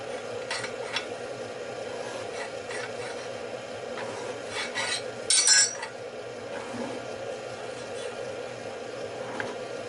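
A file or deburring tool rasps along the top edges of a machined router plate part in a workshop, with a steady scraping rub and a louder scrape briefly partway through.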